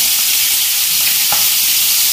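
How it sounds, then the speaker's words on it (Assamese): Local magur catfish frying in a pan, a steady close hiss of oil with a brief stir or scrape partway through, with no voices. "এতিয়া মাছখিনি ভাজি লওঁ ভালদৰে"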